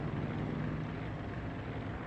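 Carrier-launched aircraft fly in the naval battle game World of Warships. A brief, steady propeller drone hums evenly throughout, with no talking.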